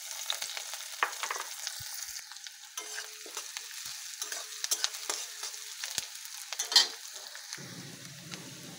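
Onion, cumin seeds, dried chilli and bay leaf sizzling in hot oil left from frying potatoes, with a steady crackle, occasional stirring clinks, and a sharper hiss burst near the end.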